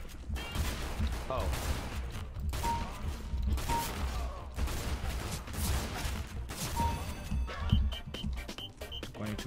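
Nova shotgun blasts in CS:GO during an Operation Wildfire mission: several loud, booming shots spaced a second or two apart, mixed with game mechanism clatter and background effects.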